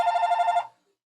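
A telephone bell rings in a fast warbling trill for about half a second, near and fairly loud, then stops and leaves silence.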